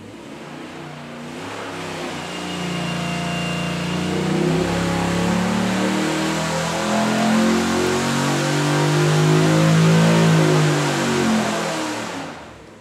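A 416ci LS V8 on a dyno revs through a full pull, its loud engine note sweeping steadily upward for about ten seconds before easing off, with no talk over it.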